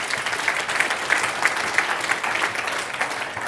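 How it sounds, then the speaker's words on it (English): Applause from an audience rewarding a group of guests: a steady wash of many hands clapping, dense and sustained from start to end with no talk over it. "Give these guys a round of applause."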